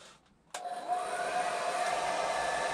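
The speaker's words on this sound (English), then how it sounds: "Let's try the hairdryer test." A hair dryer clicks on after a brief quiet moment and keeps up a steady, close whooshing roar with a faint whine running through it.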